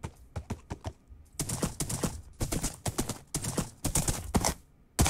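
Rhythmic clip-clop of horse hooves in Minecraft, a few quick separate taps then bursts of galloping steps, fairly close and loud, with no talking.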